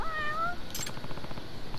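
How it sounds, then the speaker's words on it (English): A cat meows in the video game Judgment, with one clear rising call followed by a short bright burst, close and fairly loud over a steady game background. "Now, where's that cat?"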